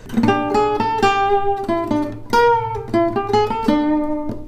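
A clean electric guitar plays a slow melodic lick, notes ringing out one after another with slides and bends, solo and up close.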